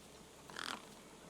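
A crow caws once, short and fairly faint, against a quiet background in the Beneath a Steel Sky adventure game.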